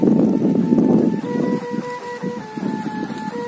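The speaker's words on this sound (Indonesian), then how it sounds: "karena kencang sekali angin ini" Strong wind roars in heavy, continuous gusts buffeting the microphone outdoors, loud and close, with a faint steady tonal whine running beneath it.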